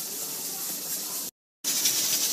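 A pot of rice and chicken steams on the stove with a steady, loud hiss. The hiss cuts to silence for a moment and then resumes.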